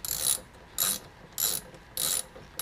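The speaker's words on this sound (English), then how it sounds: "After you undo this last bolt here, this nut, I mean." Ratchet undoing a nut on a Subaru WRX STI EVAP canister, five short bursts of rapid clicking in a steady rhythm, close and clear with no talk.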